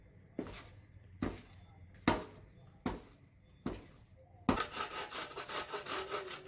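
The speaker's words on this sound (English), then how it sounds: "So that's how we are going to grate our lemon" A lemon being grated for a lemon cake, with five slow, separate rasping strokes about a second apart, then a quicker run of short, rapid scrapes at close range.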